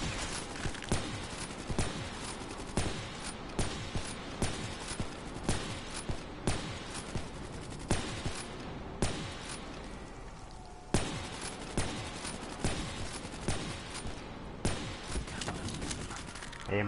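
Gunfire from a weapon in a PS4 shooter match, a long run of rapid shots and bursts with sharp spikes throughout, one brief lull midway, and faint game noise between volleys.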